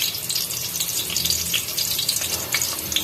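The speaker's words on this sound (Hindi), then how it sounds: "बस थोड़ा सा सौते करेंगे प्याज को" Onions sauté in about a cup of cooking oil for a dhaba-style methi palak keema. A close, lively sizzle hisses and crackles unevenly and continuously, with no one talking.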